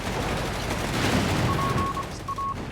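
Machine gun fire in the Company of Heroes 3 strategy video game, a rapid rattling burst of distant automatic shots blended into battle ambience, steady and moderately faint over a few seconds.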